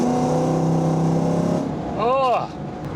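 LT-swapped Pontiac Trans Am engine idling with a steady low drone, then a quick rising-and-falling rev near the end, close and loud.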